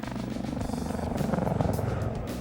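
A helicopter flying, its steady rotor chop and engine drone holding constant and fairly loud throughout with no other sounds.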